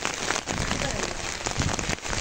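Steady rain falling in a village, pattering densely on surfaces close by with a continuous hiss.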